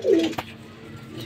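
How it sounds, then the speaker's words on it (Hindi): Kaldumba pigeons, white-eyed birds, give a short low coo up close, followed by a soft thump and quiet background rustle. "कलदुम्बा कबूतर है"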